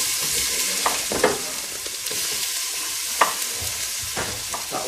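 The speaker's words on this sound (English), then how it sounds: "Cardamom, cinnamon, and now we need to get the onions in." Onions frying with cardamom and cinnamon in a pan give a steady close sizzle, broken by a few louder stirring scrapes and crackles.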